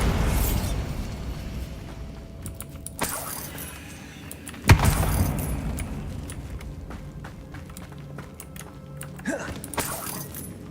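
Bombarda blasting spell cast in Hogwarts Legacy, landing as two sharp booming bursts, the second louder, each with crumbling rubble trailing off, over steady game ambience and a later swooshing effect.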